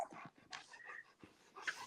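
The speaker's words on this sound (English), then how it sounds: "Is there a dog in here?" A dog whimpers and pants softly indoors in a room, faint, thin whines coming in brief scattered bursts against a quiet background.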